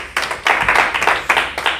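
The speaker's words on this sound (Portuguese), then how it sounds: "Salva de palmas para Jesus." A church congregation claps during a Portuguese-language worship service: bursts of close, loud, quick handclaps in uneven clusters with short gaps between them, and no talk over them.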